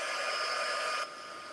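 Hair dryer blowing a steady, loud whoosh over freshly painted craft work, running continuously for about a second before dropping to a lower setting; no talking.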